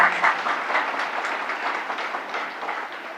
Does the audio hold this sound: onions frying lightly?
no